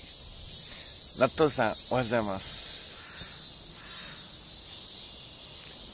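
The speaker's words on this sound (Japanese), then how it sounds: "今日はセミが鳴いてますね。" Cicadas drone steadily in the background on a late-August morning, a faint continuous high buzz running throughout while someone speaks briefly over it.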